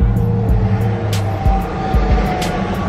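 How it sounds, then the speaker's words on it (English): A car drives through a mountain tunnel at night with a steady, loud, close road and engine rumble and periodic thumps from the road surface. "Driving through the tunnel right now."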